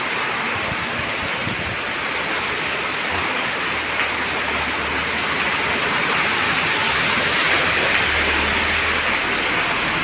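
Heavy cloudburst rain in Mangalore pours down in a dense, constant roar of water with no pauses.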